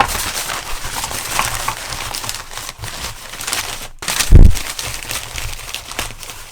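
Packaging being folded over an item for shipping by an eBay reseller: close, loud crinkling and rustling of plastic or paper in irregular bursts, with a brief heavier crunch partway through, no voices.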